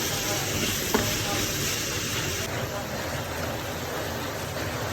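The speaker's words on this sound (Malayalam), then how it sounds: "നമുക്ക് തക്കാളി മുറിച്ചിട്ട് ഇട്ട് കൊടുക്കണം നന്നായിട്ടൊന്ന് വാറ്റിയെടുക്കുക" Tomato being sautéed with ginger-garlic paste in a pan for a crab roast, giving a steady close sizzle and frying hiss with stirring throughout, one brief sharp scrape near the start and no talk.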